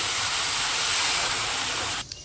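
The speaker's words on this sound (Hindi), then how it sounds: "अभी हम डाल देंगे पानी।" Water poured into a pan of frying chicken sets off a loud, continuous hiss of steam and sizzle that cuts off abruptly near the end, with no voices.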